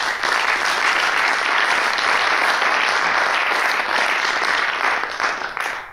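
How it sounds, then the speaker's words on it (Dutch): An audience at a local candidates' debate in Venray gives a loud, sustained round of applause for the chairman of Venray Lokaal. The dense clapping continues steadily for several seconds and then begins to fade. "Mag ik een applaus voor de voorzitter van Venray Lokaal"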